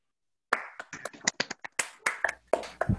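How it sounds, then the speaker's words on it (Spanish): Applause for a presenter at an online GitLab meetup, a quick burst of claps starting after a half-second silence and continuing in a brisk, uneven patter, close and fairly light. "también para darle un aplauso a Ricardo por el tiempo y por esta explicación"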